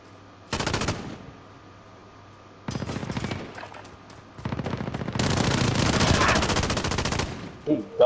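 Sustained automatic gun bursts in Call of Duty: Modern Warfare, several long rapid-fire strings separated by short gaps, loud and close, with the longest volley near the end.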